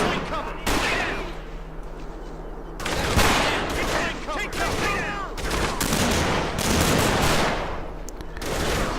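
Gunfire in the World War II video game Combat Mission Market Garden, with dense bursts of rifle and machine-gun fire crackling in overlapping volleys, some shots close and loud, others further off.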